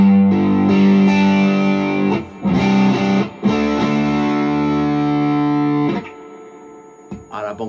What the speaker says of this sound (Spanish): Me voy al modo de más distorsión.